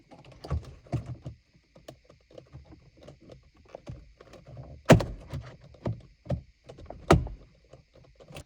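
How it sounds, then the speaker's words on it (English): On a Mercedes C300, handling around the ignition switch makes soft scattered rattles and taps. Two sharper, louder clicks stand out as the switch snaps into place, close by with no talking. "You should hear it click into place"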